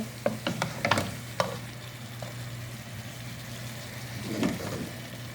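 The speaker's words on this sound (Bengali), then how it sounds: "নেড়ে ফেড়ে ভালো করে নেড়ে ছেড়ে মশলাটা মিশাইয়া অনেকক্ষণ রান্না করে নেব" Spice mix for Arabian kabsa being stirred in a pot: a few scraping stirs with faint cooking sizzle over a steady low hum, no talk.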